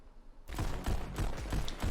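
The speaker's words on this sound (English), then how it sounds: "There's a lot of gunfire that's going on in this game, and from all different directions" Rapid bursts of gunfire crackle in quick succession after a brief quiet start, loud and dense, coming from all directions in the VR shooting game Pistol Whip.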